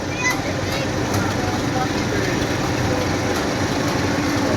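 A restored 1957 D17 tractor runs steadily in a harvest-days parade, its engine a continuous loud rumble with broadband noise throughout, no distinct gaps or peaks.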